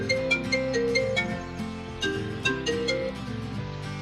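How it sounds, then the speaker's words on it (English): The default iPhone ringtone plays alone, a bright, repeating melodic pattern of chiming notes over a steady rhythmic backing, clear and close for a few seconds. "Are you tired of this old boring iPhone ringtone and you want to change it?"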